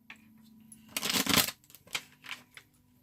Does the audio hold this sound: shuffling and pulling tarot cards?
yes